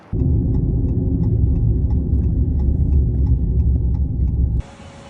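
A car pulls out onto the highway for a long road trip, its low engine and road rumble loud and steady for several seconds before cutting to quieter noise.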